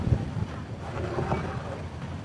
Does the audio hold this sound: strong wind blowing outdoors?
yes